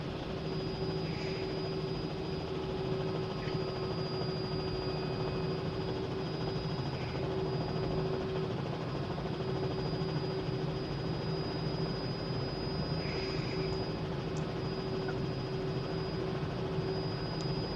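A helicopter in a flight simulator lifting off into the wind, a steady droning rotor and engine hum that holds level and unbroken, fairly loud and alone without any talking.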